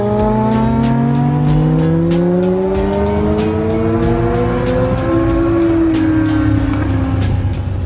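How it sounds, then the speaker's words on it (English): A BMW E36 pulls in nearby, its engine note rising and falling through the gears, loud and close, with steady road and tyre noise and no voices. "Another E36 pulling in."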